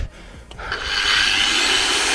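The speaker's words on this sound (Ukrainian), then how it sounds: "Болгарка дійсно виключилась і пробую перезавантажити." A Bosch GWS 24-230 JZ angle grinder is switched back on after shutting off. A few knocks come first, then the motor spins up into a loud, rising, steady whine.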